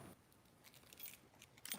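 Keys jingle softly in short bursts, close by and quiet, with light metallic clinks.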